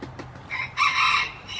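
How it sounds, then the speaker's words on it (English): A bantam chicken at a farm animal sanctuary gives a short, close burst of clucking that rises loudly midway and then trails off. "They're actually called bantam chickens"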